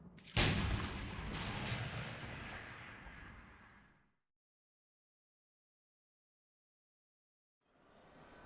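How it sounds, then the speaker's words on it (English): A bomb detonates in Final Fantasy XIII with a sharp, loud blast followed by a long rumbling roar that fades out over several seconds, then silence before another low rumble rises at the end. "That bomb went off."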